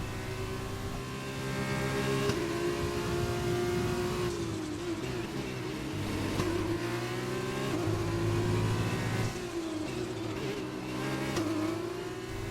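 Formula One race cars in a video game career race roar steadily and loudly, their engines holding a sustained high-pitched whine that rises and dips with gear changes and throttle, with no talking over it.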